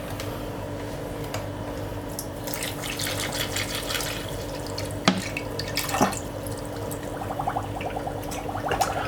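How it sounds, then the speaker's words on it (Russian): Steady water pouring into a container for homemade kvass with a continuous splashing rush, plus a couple of light clinks partway through. "И сразу добавляем воду."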